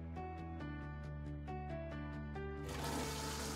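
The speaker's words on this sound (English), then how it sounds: "Flush water and toilets." A toilet flushes in House Flipper VR, a short rushing burst of water near the end, preceded by a steady run of game music notes that continues underneath.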